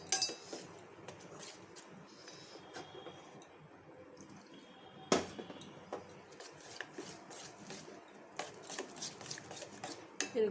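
Spoon scraping and clinking around a bowl as jalebi batter is stirred with water added little by little, a steady close rubbing with scattered metallic chinks and one sharp knock midway.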